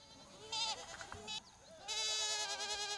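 Goats bleating at a goat farm, several loud, close calls in bursts with short gaps between them and no talk.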